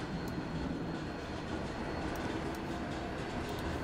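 A Prague tram running through tight curves in the game Transport Fever 2 makes a steady rumbling rail roll with faint light clicks of the wheels, continuous and even, with no talk over it.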